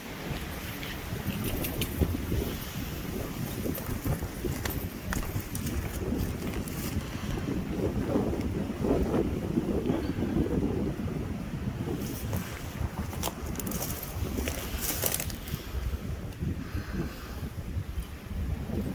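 Strong gusting wind roars past outdoor Layens beehives in subzero cold, a steady loud rush with microphone buffeting and occasional louder bursts, no speech.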